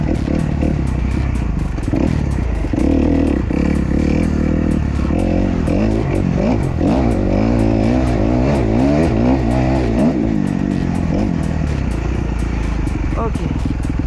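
A small beginner motorcycle, its front brake fouled by leaked oil, is ridden with a steady engine drone that rises and falls as the throttle changes, close and loud, with a voice talking over it at times.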